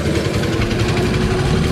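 A greenkeeper's mower engine runs loud and close, a steady dense roar with a rough rumble, holding at high revs throughout without talk over it.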